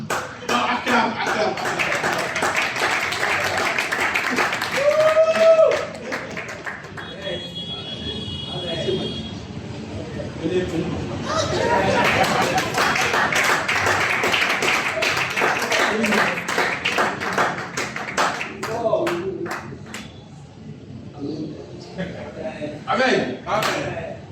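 A congregation at a church worship service claps along in acclaim of the Lord, steady rhythmic clapping under loud singing and speech throughout.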